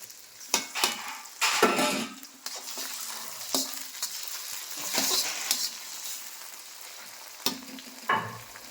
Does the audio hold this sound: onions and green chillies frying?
yes